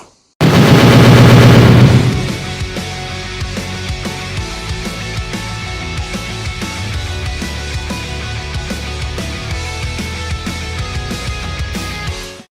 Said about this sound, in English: Everybody, let the fireworks loose.